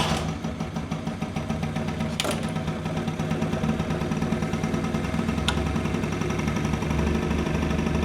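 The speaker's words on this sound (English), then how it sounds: "that's a pretty good idle." A scooter engine idling steadily after an idle adjustment, a continuous mid-pitched putter close by with no talk over it, and a brief sharp tap at two points.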